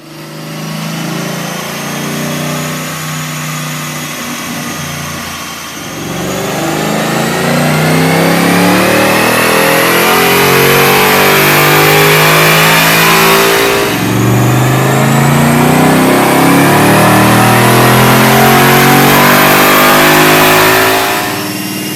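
2013 Mustang GT V8 with a JLT intake and tune on a dyno, revving loud and close through two long sweeps that climb steadily in pitch, each ending with a brief drop before the next pull.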